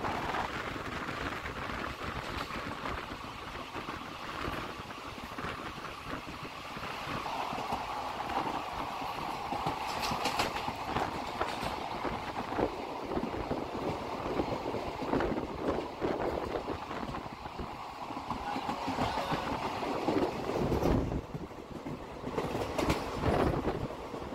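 Hazarduari Express train on the Kolkata–Lalgola line running through skipped stations, a steady loud rumble with rhythmic wheel clatter and rattling carriages throughout, no talk.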